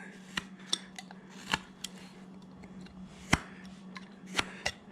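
A knife carves a block of wood into a farmer figure by hand, making sharp, crisp slicing clicks at irregular intervals against a quiet background, close up and fairly faint.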